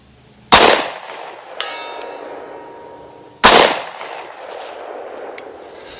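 Two loud 10 mm pistol gunshots at an outdoor range, each a sharp close crack with a ringing metallic tail, spaced about three seconds apart with a faint clang between them.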